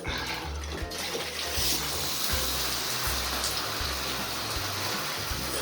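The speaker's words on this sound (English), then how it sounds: "let's turn on the shower" A household shower is switched on and runs with a steady, loud, close hiss of spraying water that continues throughout with no talking.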